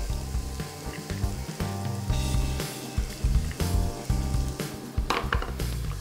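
Diced shallot, carrot and onion mirepoix sizzle gently in oil in a saucepan over low heat, a steady close hiss with occasional clinks and stirring knocks.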